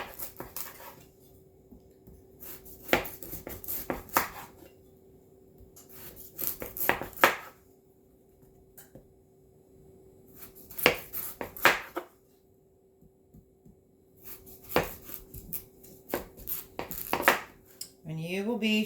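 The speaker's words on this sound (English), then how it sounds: "we are just going to do slices like this of butternut squash" A knife cuts slices of homegrown butternut squash on a board, roasted and softened: repeated crisp cutting and scraping strokes come in clusters with quiet pauses between, close and moderately loud, with occasional talk.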